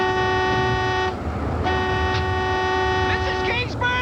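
A vehicle horn blares in two long sustained blasts separated by a short gap, loud and close, during a storm scene, with voices calling out near the end.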